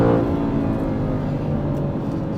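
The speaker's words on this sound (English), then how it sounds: "I love hitting the limiter in this car" An Aston Martin CTR Vantage on a wet road holds a loud, sustained high-revving engine note near the rev limiter, a steady dense roar with tonal harmonics from start to finish and no talk.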